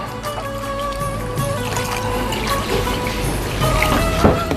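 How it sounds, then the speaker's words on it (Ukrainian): Water is poured into a pot sitting on a stove, a steady splashing trickle that runs for several seconds, close and fairly loud, with no talking. "Ставимо її на огонь, додаємо водичку"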